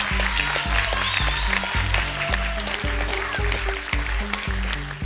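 A studio audience at a TV truth-confession game show claps over a pulsing, rhythmic bass music cue, with the applause steady and loud throughout.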